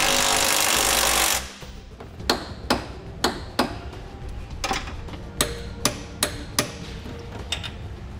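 Flange nuts being snugged on a Curt trailer hitch receiver under a 2017 Nissan Leaf, with a steady hiss cutting off and then a series of sharp, evenly spaced metallic clicks or taps from a hand tool, close and loud.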